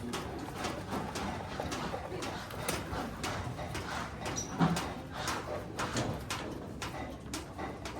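Pigeons coo softly and repeatedly nearby, with faint rustling and clicking in the background.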